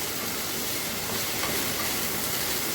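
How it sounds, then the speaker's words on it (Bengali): Dhenki shak greens, with a pinch of sugar, fry in a pan, giving a steady, dense hissing sizzle that stays even throughout with no talking. "এবার আর একটু ভাজা হবে"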